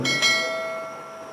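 A single bell chime with a sharp strike and a clear ringing tone that fades out slowly over about a second, on its own with no speech.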